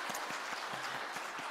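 Applause from a congregation during a Christmas church service: steady, soft clapping from many hands, heard at a distance and fairly faint, with no talking over it.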